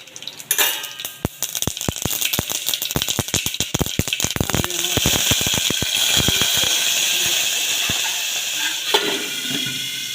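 Sesame seeds, cumin and carom seeds crackle and sizzle in hot oil, a dense run of sharp pops and spits that settles into a steady close hiss.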